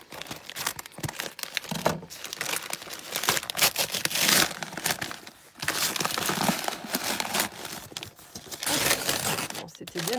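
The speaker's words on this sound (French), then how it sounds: "je vais faire du bruit. Il y a beaucoup de scotch." Packing tape is ripped and peeled off a well-wrapped cardboard parcel, with repeated crinkling and tearing bursts throughout, while someone talks over the noise.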